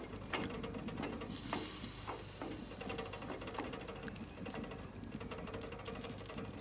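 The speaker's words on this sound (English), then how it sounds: "you can see now that the broth is starting to bubble" Vegetable paella broth bubbling in a pan over a wood fire grill, a steady close crackle and simmer with soft pops and faint ticks throughout, no talking.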